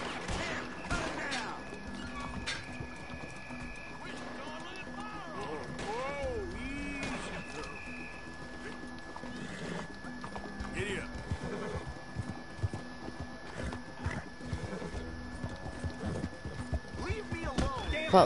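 Horse in the Red Dead Redemption 2 video game: clip-clop hooves and a few whinnies amid gunfire, crashes and other game sounds, with someone talking over them throughout.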